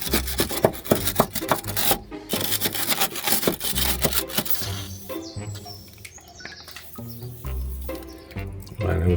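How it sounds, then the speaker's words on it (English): A wire brush scrubbing corroded suspension bolts on a Mk3 Golf GTI, rapid rough back-and-forth rasping strokes, loud and close, easing into a lighter scratchy brushing with some faint background noise. "I'll give it a good wire brush, WD-40, and see the condition of these"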